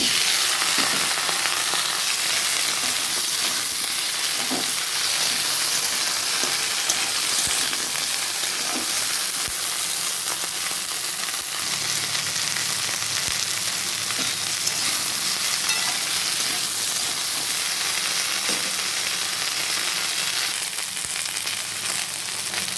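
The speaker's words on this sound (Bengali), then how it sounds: "মোটামুটি ভাজা হয়ে গেছে এবার আমি সবজিগুলো ঢেলে দেবো" Vegetables sizzle steadily in a wok of hot oil already seasoned with black mustard seeds and green chilies, a continuous loud frying hiss with occasional stirring clicks throughout.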